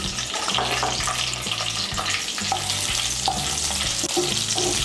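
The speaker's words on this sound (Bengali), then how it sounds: "বড় করে যে পেঁয়াজ কুচিগুলো কেটে নিয়েছি সেই পেঁয়াজ কুচিগুলো হালকা একটু আমি ভেজে নেব।" Large-cut chopped onions fry lightly in a pan for a Bengali potol do pyaza, a steady close sizzle running throughout with soft stirring scrapes.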